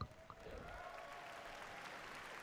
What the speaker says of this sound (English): there was clapping for Destiny